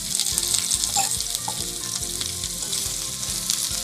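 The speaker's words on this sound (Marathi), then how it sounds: "कांदा घालून घेते एक चार ते पाच ना छोटे तेल घालून घेते जेणेकरून आपला कांदा आहे ना तो पटकन भाजला जाईल" Onion fries in a little oil in a pan for Malvani chicken curry, a loud, even crackling sizzle that runs throughout with a few light stir taps.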